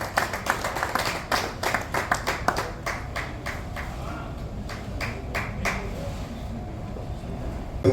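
Hands clap at an honour ceremony held by a chamber of commerce group as a guest is welcomed to the stage. The clapping is moderate and scattered, with distinct claps starting dense and thinning out toward the end.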